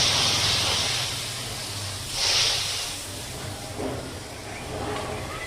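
Water poured into a hot pan of fried mustard paste, producing a loud steamy hiss and sizzle that swells, fades, then flares again briefly before settling into a softer bubbling hiss.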